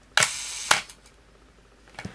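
A Pentax K1000 film camera fires its shutter at a slow speed, with a sharp mechanical click, a second clack about half a second later, then another click near the end, all close and clear.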